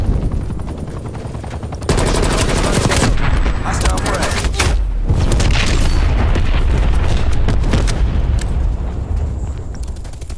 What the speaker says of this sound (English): Coming frag grenade.